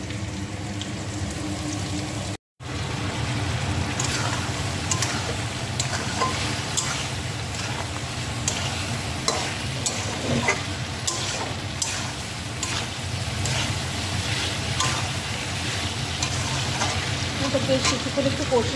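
Potatoes fry in a pan with ginger paste and ground spices, giving a continuous sizzle and bubbling with occasional stirring scrapes, loud and close, with a brief dropout near the start.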